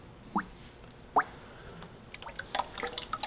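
A pottery cup is dipped into a bucket of celadon glaze, giving two soft plops followed by faint trickling drips of liquid glaze falling back into the bucket, quiet and close.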